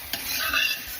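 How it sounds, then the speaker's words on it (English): Seasonings and chicken bouillon sizzle in a hot cooking pot as a spoon stirs through them, a steady frying hiss with scraping strokes against the pot, close and fairly loud, with no talking. "it's gonna sizzle a little bit, and I'm gonna give it a stir"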